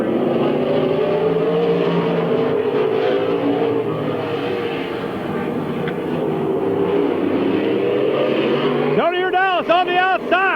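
Race cars roar around Midvale Speedway in 1999, with a dense, loud engine drone throughout and sharp revving passes near the end, while an announcer talks over the action.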